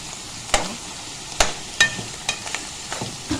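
Meat and onions fry in a pan, a soft sizzle beneath several sharp scraping and stirring knocks spaced irregularly, close up with no voices.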